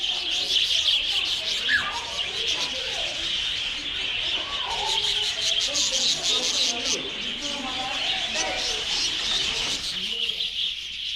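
Many small birds chirp and tweet densely at an interactive bird display in a Texas wildlife park, a bright continuous chatter close by, while children and adults talk over it.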